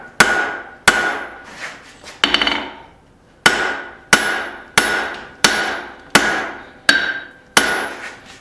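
Hand hammer blows forge hot steel tong reins on an anvil, about a dozen loud ringing strikes in a steady rhythm with one brief pause, close and without talking.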